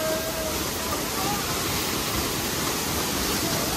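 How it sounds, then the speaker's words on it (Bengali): A waterfall on the Boalia trail rushes in a steady, dense wash of falling water, loud and unbroken throughout, with no distinct voices standing out over it. "ঝর্ণায় যাচ্ছি"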